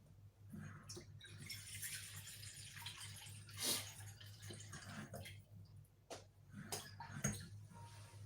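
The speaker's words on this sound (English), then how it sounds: "So I'm gonna pop my water into my saucepan." Warm water poured into a saucepan while making a soft milk bread loaf at home, a continuous splashing, dripping pour running through the whole stretch at moderate volume with a few brief louder spurts, no talking.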